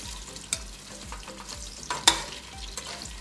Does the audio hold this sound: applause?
no